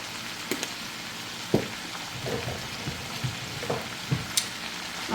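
Food sizzles steadily in a pan with a soft crackling hiss, punctuated by scattered pops and light clinks, with no talking.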